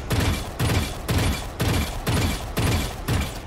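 Valorant gunfire in evenly spaced short bursts, roughly seven rapid volleys about half a second apart, loud and close with no voices.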